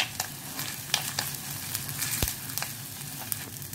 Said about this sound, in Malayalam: ഇനി ഇതിലേക്ക് ഒരു 4 പച്ചമുളക് കീറിയത് ഇട്ട് കൊടുക്കാം.